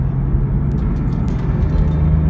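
Rear engine of a 2006 Porsche 911 S Cabriolet while driving, a steady deep rumble with constant road noise, close and loud with no talking.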